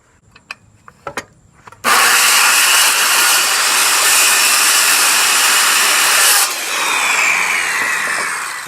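Saw cutting through a single piece of wood to make a primitive Adirondack-style chair: a few sharp knocks, then a loud, continuous rasping whine for about five seconds that shifts in tone and carries on more softly to the end.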